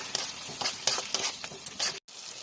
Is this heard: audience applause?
no